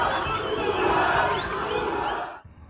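A crowd of football fans cheers and chants loudly outside the club's training academy as the Palmeiras players leave, a dense roar of many voices that cuts off near the end.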